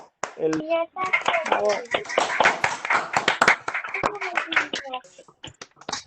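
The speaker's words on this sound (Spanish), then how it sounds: "Otro aplauso" Participants in a virtual online session clap hands, a mix of close individual claps over microphones with voices talking and laughing between and over them.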